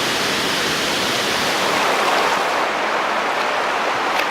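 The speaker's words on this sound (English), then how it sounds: "that waterfall is definitely worth a visit" Loud, continuous rush of a waterfall on Koh Kood Island, a dense broadband roar of falling water heard close up without pause and with no voices.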